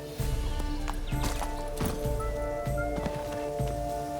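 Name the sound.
horse hooves in The Witcher 3 video game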